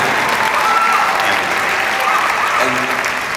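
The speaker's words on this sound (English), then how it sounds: "Give this brother a round of applause." A tour audience breaks into a round of applause, dense, loud clapping from a large crowd that stays steady, with faint voices beneath it.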